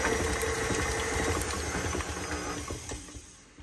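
An electric hand mixer beats key lime pie filling with a steady, loud mechanical whir that holds evenly and then tapers off slightly near the end, with no talking.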